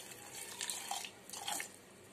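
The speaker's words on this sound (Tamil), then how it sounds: "இப்ப நான் கொஞ்சம் தண்ணி ஊத்திருக்கேன்," Water poured from a tap or jug into a mint and lemon juice mixture in a blender jar, a brief soft splashing trickle with a couple of gentle surges, close and fairly quiet.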